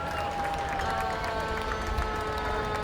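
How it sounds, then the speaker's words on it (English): A crowd lines the street at a small-town Fourth of July parade, clapping and cheering in a steady wash of applause that holds for the whole stretch, with distant band tones and murmured voices mixed underneath. "Let's the crowd go wild."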